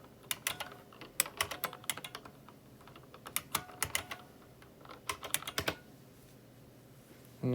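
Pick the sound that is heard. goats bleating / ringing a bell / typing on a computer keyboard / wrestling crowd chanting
typing on a computer keyboard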